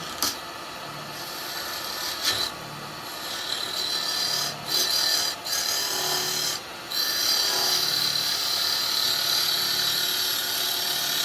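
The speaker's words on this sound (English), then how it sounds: "Just going to make a start with the spindle gouge" A spindle gouge cuts into a wood blank spinning on a lathe while a lidded box shaped like a snowman is turned, giving a steady close scraping rasp with brief dips and bursts, and no talk.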